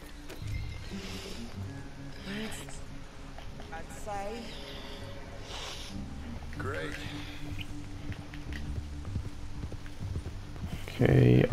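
Horse hooves clip-clop steadily at a walking pace in Red Dead Redemption II, mixed with game ambience and speech, ending in a louder sound burst near the close.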